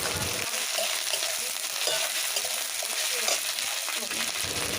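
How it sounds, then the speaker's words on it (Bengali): Ginger and garlic paste fry with browned onions in a pan, a loud continuous sizzle with stirring scrapes close by. "ওর মধ্যে আদা আর রসুনের পেস্টটা দিয়ে দিলাম ওটা কিছুটাক্ষণ ভাজা হয়ে যাক"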